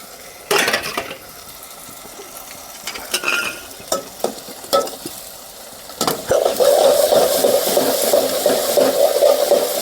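Green chillies fry with onions in a pan for a Gujarati stuffed brinjal curry: a few sharp clanks of a spoon stirring against the pan, then a loud, steady sizzle that takes over.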